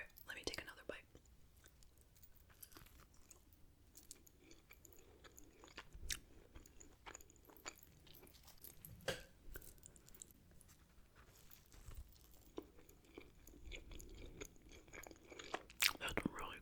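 Close, quiet bites and chewing of a Little Caesar's pretzel crust pizza with tomato sauce, soft crunchy and wet mouth sounds scattered through, with whispery breaths and faint speech-like sounds in between.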